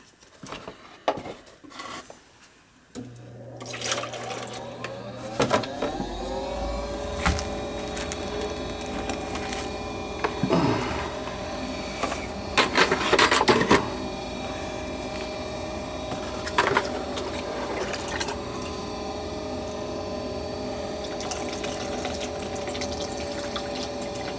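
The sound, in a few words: water poured into gas furnace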